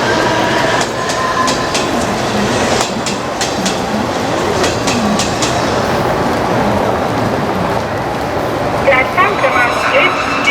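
A train runs through Borivali railway station in Mumbai with loud rumbling and rhythmic clickety-clack of wheels over rail joints, steady throughout, while voices talk underneath.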